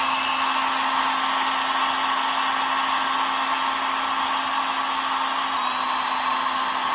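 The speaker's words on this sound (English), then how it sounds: "I have a hair dryer. I'm going to turn this on. It's going to make a little bit of noise" A hair dryer blows on a wet carved mouse to dry its finish, a loud, steady whine and rush of air holding constant close by, with no talk.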